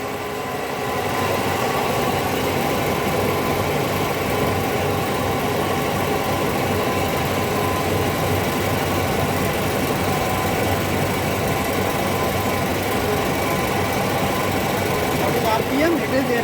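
An air compressor runs steadily through the whole stretch, a constant mechanical drone with a faint rhythmic pulse, close and fairly loud, with no break or change.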